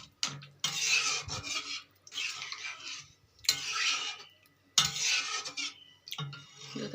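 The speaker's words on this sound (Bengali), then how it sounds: "এবার কিছুক্ষণ নাড়াচাড়া দেবো।" Potato and paneer curry being stirred in a pan with a utensil, giving repeated scraping and rubbing bursts in several bouts, close and fairly quiet, with no talking.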